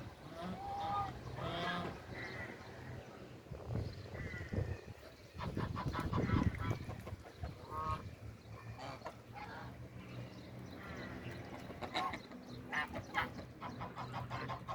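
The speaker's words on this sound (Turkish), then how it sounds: "Şurada ördekler var arkadaşlar." Ducks, geese and other farm fowl quack and honk in a noisy outdoor mix by a river, with a few faint voices and some laughter now and then.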